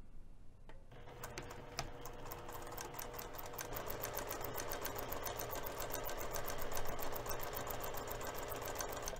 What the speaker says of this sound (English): we're going to sew both of the long edges using 1/4 inch seam allowance